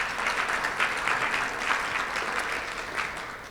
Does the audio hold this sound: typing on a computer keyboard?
no